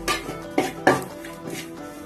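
Spoon clinking against a pan while kanthari chili powder is stirred into a vegetable cutlet masala, three distinct metallic scrapes and taps close up with softer stirring between.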